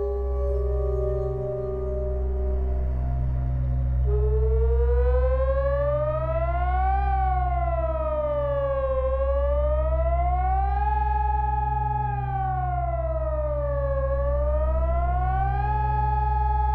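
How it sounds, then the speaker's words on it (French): A civil defense siren near a French nuclear site sounds in its monthly test, a loud steady tone that rises and falls in slow repeated waves over a low constant hum, with no voices. "Quand j'entends les sirènes tous les mercredis"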